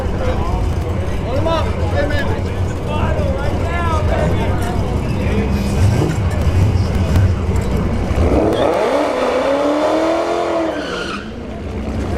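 Cars launch and run down a drag strip at a street race, including a Shelby GT500 and a nitrous Fox body Mustang, with loud engine roar and a rising tire squeal near the end, heard under an announcer's voice.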